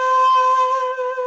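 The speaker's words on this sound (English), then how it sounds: "Now here's the same note with some vibrato." A single shakuhachi note sounds with a gentle wavering vibrato made by moving the player's head, held for just over a second.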